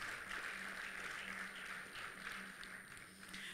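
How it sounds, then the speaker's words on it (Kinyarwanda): An audience claps in a steady, continuous wash of applause at a book launch event, moderately quiet and even throughout, with a faint low hum underneath. "Tumukomere amashyi."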